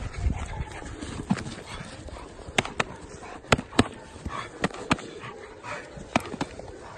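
A police or security dog barks on command, sharp repeated barks in an irregular burst pattern over a busy outdoor background with rustling and handler movement nearby.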